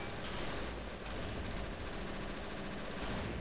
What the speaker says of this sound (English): The MG 42 is down here opening up.